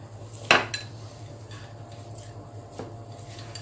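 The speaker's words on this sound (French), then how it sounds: "vous incorporez les pépites au mélange" A spoon stirring chocolate chips into biscuit dough in a bowl, one sharp clink of metal on the bowl early, then soft scrapes and a few lighter taps, close and quiet with no talk.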